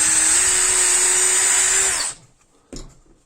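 A power drill whines steadily as it bores a through hole in a wooden board for a screw-fastened build, then winds down and stops, followed by a single sharp knock.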